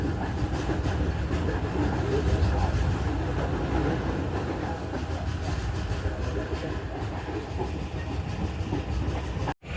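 A train rolls into Lahore Junction railway station with a steady, loud rumble and clatter of railcars over the tracks, continuous throughout, with voices faintly mixed in.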